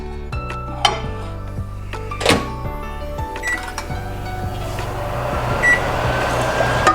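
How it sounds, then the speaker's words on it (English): A microwave oven warming milk and water hums steadily with a low tonal drone, punctuated by a few clinks of dishes and a thunk, and a faint hiss rising toward the end. "I'm just gonna put them in a microwave oven for about 30 seconds to 1 minute to warm it up."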